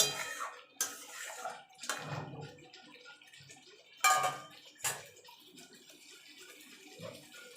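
Potatoes tossed with spice masala in a pan for chicken curry, soft frying sizzle under repeated scraping and clinking stirs of a spoon against the pan, fairly close and quiet.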